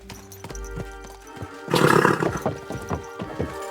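Horse hooves clop in a steady rhythm in the video game Kingdom Come: Deliverance 2, then a loud, close neigh bursts out midway and trails off as the hoofbeats continue.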